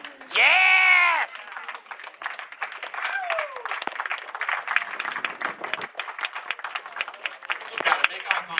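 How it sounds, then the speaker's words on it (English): Audience at a cross country team banquet applauding, a sustained scattered clapping with some cheers after a loud whoop at the start. "take a few moments to applaud your parents for all they do for you and this program"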